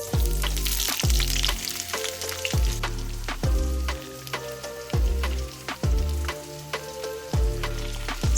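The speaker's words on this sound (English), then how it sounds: "Sauteing my vegetables with just a touch of heat." Vegetables for beef fried rice sauté in a hot pan with a steady sizzle, broken by regular, close thumps and scrapes as the food is stirred and tossed, with no one talking.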